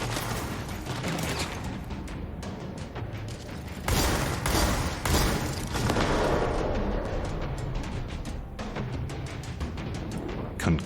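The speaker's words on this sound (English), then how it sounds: "I gotta use the grenade thrower more" A grenade launcher in the game Control fires several loud, punchy bursts with booming impacts, set against clattering mechanical noise and a busy, chaotic combat backdrop.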